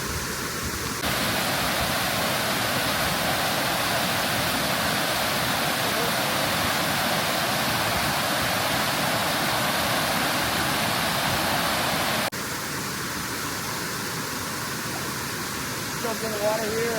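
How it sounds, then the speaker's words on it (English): Chattooga River water rushing steadily on a hiking trail in South Carolina's foothills, a loud continuous broadband roar that holds throughout and drops slightly near the end. "Jump in the water here at the Chattooga River."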